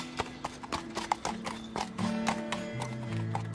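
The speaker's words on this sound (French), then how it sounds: "Les confronter avec ces chevaux de race camarguaise" Camargue horses' hooves clip-clop in a quick, uneven run of sharp close strikes, with a brief whinny and some faint voices in the background.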